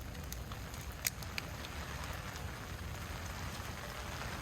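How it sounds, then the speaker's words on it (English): Heavy rain pours steadily outdoors around a house fire, a constant broadband hiss with a couple of sharp drop or crackle ticks, loud and continuous with no talking. "A lot of rain, man."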